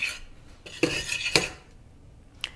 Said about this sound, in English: And I'm going to stir this up.